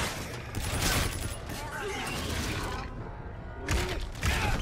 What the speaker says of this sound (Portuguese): eu estou a levar tiros de todo lado.